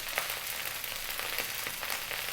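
Chicken fried rice frying over high heat, a soft steady sizzle with faint crackles throughout, fairly quiet and even, with no voices.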